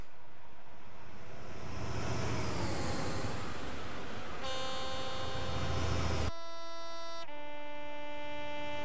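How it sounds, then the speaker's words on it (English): A regional train passes by in the Train Simulator 2014 game on the East Coast Main Line, a rushing roar that swells and fades, followed by steady electronic horn-like tones that shift pitch near the end. "Another regional service passing by right there."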